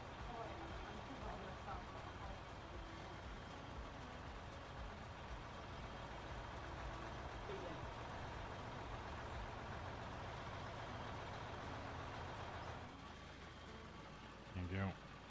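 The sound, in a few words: truck engine exhaust idling in video game Out of Ore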